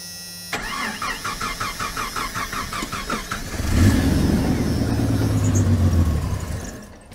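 A 1990 Jeep Comanche with a start-and-stall fault cranks in a rapid rhythmic churn for about three seconds, catches into a loud close roar, runs briefly, then fades as it dies.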